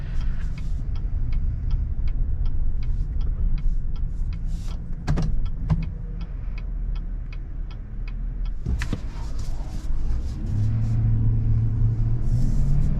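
A 2022 Chevy Silverado 1500 pickup truck turns at low speed, its steady engine and road rumble continuous throughout with a regular ticking turn signal and a couple of brief knocks, with no talking.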